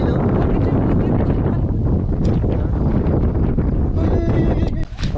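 Strong wind roars across a mountain summit at night, buffeting the microphone in heavy, continuous gusts, with people's voices mixed in.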